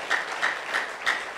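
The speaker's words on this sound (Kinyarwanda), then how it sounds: "Amashyi menshi ku mwami Yesu Kristo." A church congregation clapping in a steady rhythmic beat for Jesus Christ, loud bursts of applause repeating roughly three times a second, close and with no talk.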